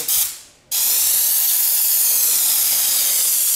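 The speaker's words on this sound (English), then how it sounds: "this was what I would do to put the first coat on. Okay, so away we go. We've got our gun." A Raptor spray gun lays down a first coat with a brief opening hiss, then a loud, steady, unbroken spray that continues close up to the end.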